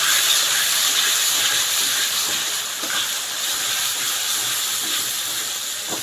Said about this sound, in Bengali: সব বেটে রাখা মশলাগুলো তেলের মধ্যে দিয়ে দিচ্ছি, যার মধ্যে আদা, রসুন, জিরে, ধনে গুঁড়ো আছে।